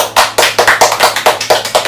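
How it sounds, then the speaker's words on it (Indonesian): Applause from a gathered audience during a heartfelt talk about a friendship, a steady run of dense hand claps lasting about two seconds, loud and close. "Tepuk tangan dulu."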